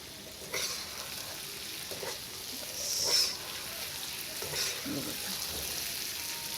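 Okra masala frying over a high flame, a continuous sizzle with intermittent scraping strokes of a spatula stirring the pan, fairly close.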